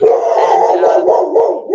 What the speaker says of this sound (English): don't know if you can hear my dog going crazy in the background here or not.